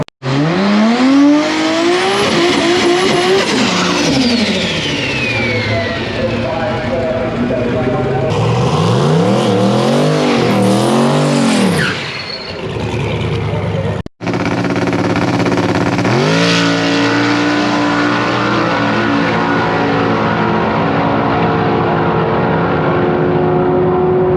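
A drag race car launches and screams down the strip on a grudge-race run reaching nearly 186 mph, its loud engine climbing and shifting for several seconds, followed by other racing engines and crowd noise with people talking.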